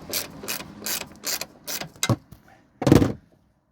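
A ratchet wrench loosens bolts on the rear shock of a Toyota Supra Mk4, giving five quick clicking bursts in a steady rhythm, then a short pause and one louder final burst, close and loud with no talking.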